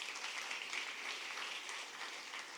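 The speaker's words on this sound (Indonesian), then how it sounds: "Tepuk tangan buat Tuhan kita" Church congregation claps during a sermon, a faint but continuous wash of applause heard from a distance, even and sustained with no talk over it.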